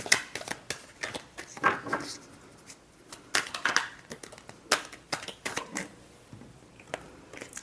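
A deck of tarot cards is shuffled by hand: irregular crisp riffles, slaps and flicks follow one another closely, soft but near, with no voice over them.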